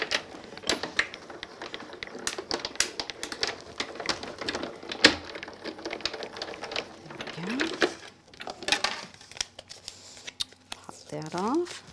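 A craft cutting machine working through material, giving a rapid, irregular clicking and tapping at close range, with rustling handling noises and a voice talking near the end.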